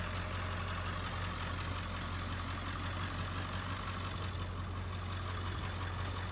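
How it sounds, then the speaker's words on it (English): A 2001 Ford F-250 Super Duty XLT with the 7.3L Powerstroke diesel idles steadily and close by, a continuous low rumble with an even, faintly knocking rhythm and no talk. "truck starts and runs perfectly."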